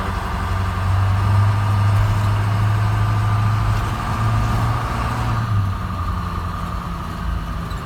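A truck engine accelerates during a test drive of a J1939 transmission control link, a loud steady low drone with a deep humming tone that rises and holds, easing slightly toward the end.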